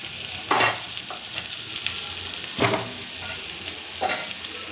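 Pumpkin pieces fry with turmeric in a pan, giving a steady soft sizzle while a spoon stirs in several louder scraping bursts. No talking.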